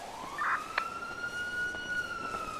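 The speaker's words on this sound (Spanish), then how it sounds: "Escucho una patrulla bien cerca por aquí." A police car siren in the video game GTA RP, a single rising and sustained wailing tone heard clearly at moderate distance, with a brief clicking sound near the start and no speech.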